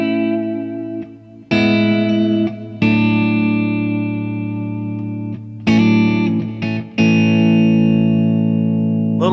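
A Knaggs electric guitar played through a 59 tweed amp simulator with Celestion speaker impulse responses, light reverb, delay and boost, ringing out sustained distorted chords in several strummed phrases, loud and close with no talking.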